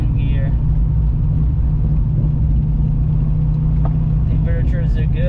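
Cammed car with no tune driving in second gear, its engine a loud, steady low rumble throughout with a choppy idle-like lope.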